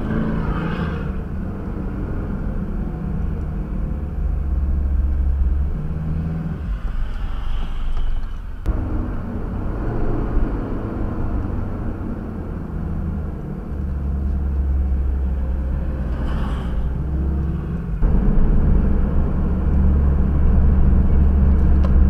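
A Mitsubishi Pajero diesel 4WD with a top-end power loss fault, its engine running while driving, a loud, steady low rumble with a few shifts in tone, no talking.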